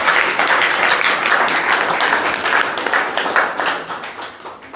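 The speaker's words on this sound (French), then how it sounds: "Applaudissons pour le Seigneur." A church congregation applauding during worship, many hands clapping together in a lively, somewhat rhythmic burst that holds steady, then thins slightly toward the end.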